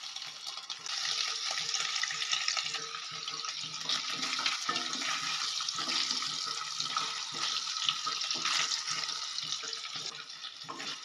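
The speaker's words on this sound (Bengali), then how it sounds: "তেলটা গরম হয়ে যেতেই আমরা পনিরের টুকরোগুলো একে একে দিয়ে দেব।" Paneer pieces sizzle in hot white oil, a steady dense hiss and crackle that runs without pause and fills the whole stretch, with no voices.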